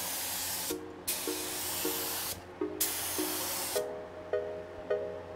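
A spray gun paints a Jeep, its loud airy hiss coming in long steady bursts separated by short breaks, with a faint tonal hum underneath.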